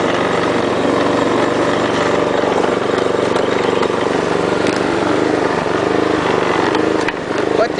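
A riding lawn mower engine drones steadily as the mower climbs a hill very slowly in first gear, a loud, continuous close-up rumble that barely changes for the whole stretch.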